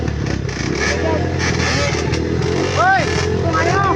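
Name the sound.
motorcycle engine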